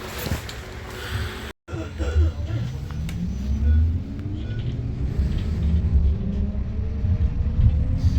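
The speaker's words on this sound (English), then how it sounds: "I want to prepare you for what I think is a really satisfying sound on the Yutongs when the bus first accelerates." A Yutong E12 electric bus pulls away from a stop, its motor giving a rising whine that climbs steadily in pitch under a low rumble of road and cabin noise, heard from inside the vehicle.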